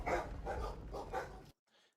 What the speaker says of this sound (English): a dog barking here